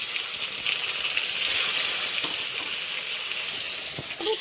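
A small cut tomato fries in hot oil with cumin and bay leaf, giving a steady, close, dense sizzle throughout with no talk.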